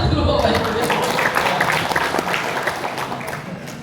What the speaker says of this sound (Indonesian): Tepuk tangan dulu Bapak Ibu